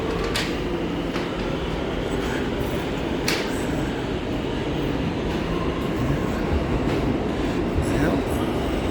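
A brand new A train subway car rides along, with a steady loud rumble and rattle throughout, faint clicks of the track, and someone talking over the noise.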